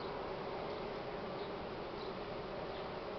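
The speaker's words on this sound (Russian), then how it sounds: "Много молодых пчел." Buckfast honeybees buzz inside an open hive during spring expansion, a dense, continuous drone of many bees heard up close at a steady level with no talking.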